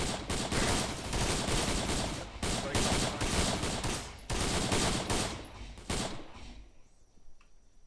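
Heavy incoming gunfire in Task Force Athena training, a dense, continuous rattle of overlapping shots and automatic bursts that stays loud for several seconds, then breaks off and tapers into quieter scattered noise.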